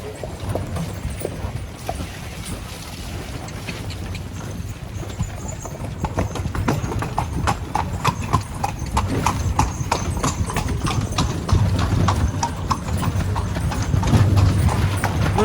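A horse's hooves clip-clop in a steady rhythm on the road while it pulls a cart near Petra, the trotting growing louder and busier over time, with a few soft voices in the background.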